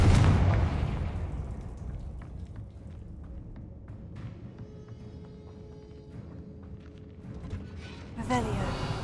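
The Confringo fire spell in Hogwarts Legacy goes off as a loud explosive blast during a fight with a giant spider. It is followed by crackling, popping debris and a low rumble, then a second burst near the end.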